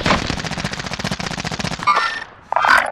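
Rapid automatic gunfire in Call of Duty Warzone, a fast unbroken burst of close, loud shots for about two seconds, then a brief lull before more shots and game effects.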